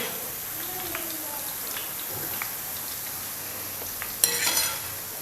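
Motichur boondi drops frying in hot oil, a steady fine crackle throughout with a few sharper bursts near the end, close and moderately loud, no talking.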